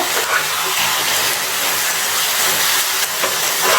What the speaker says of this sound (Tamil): மஸ்ரூம் நல்லா வதங்குங்க